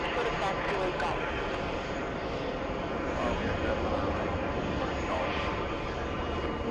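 An ITA Airbus A330 jet rumbles at an airport as it approaches, a steady, moderately distant roar with faint radio chatter and clicks above it.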